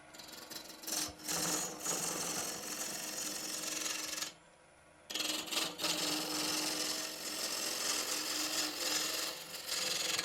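A wood lathe runs during woodturning with a steady, raspy whirring drone. It cuts out briefly near the middle, then spins back up and keeps going.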